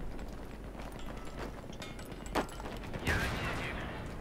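Gunfire in multiplayer Battlefield 3, scattered shots and short bursts heard at a moderate distance over a busy background of game noise, with a few brief louder cracks.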